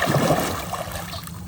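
Ocean water washing and splashing around a Huawei Watch GT4 being tested for waterproofing outdoors, a steady close wash of surf with trickling and splattering, no talking.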